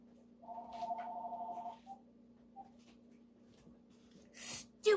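A home telephone rings in a kitchen during cake making, one electronic ring tone near the start followed by quiet, then a few short bursts of noise near the end.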